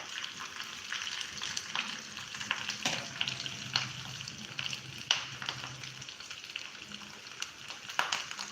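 Sesame seeds and curry leaves sizzling in hot tempering oil with the flame switched off, a crackling frying hiss with scattered pops and stirring scrapes, close and moderately loud.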